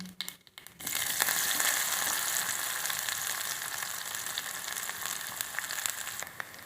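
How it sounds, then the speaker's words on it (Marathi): Chopped onion dropped into hot oil tempered with mustard seeds and cumin, for a drumstick pod curry, sets off a loud, steady sizzle that bursts in suddenly and keeps crackling close up, with no talking. "आपण आता याच्यात कांदा टाकून घेऊ।"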